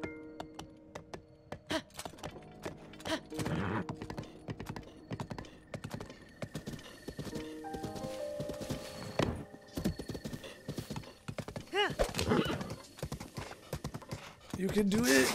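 Galloping horse hooves clip-clop through Breath of the Wild with a few whinnies breaking in, loud and close, over game effects and someone talking excitedly throughout.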